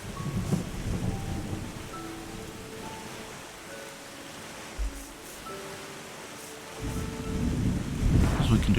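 A thunderstorm in the video game Terra Nil: steady rain hiss with a deep rolling rumble of thunder that swells loudly near the end, with no talking.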